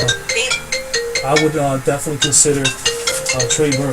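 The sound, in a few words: phone ringing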